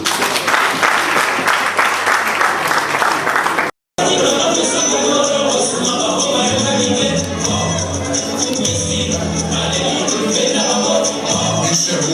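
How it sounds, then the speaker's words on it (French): Loud, sustained applause fills a wedding dinner hall for the couple Audrey and Felix, with dense clapping that breaks off briefly, then resumes as a steady, even roar of many hands and crowd noise. "Si on peut les acclamer, mesdames et messieurs."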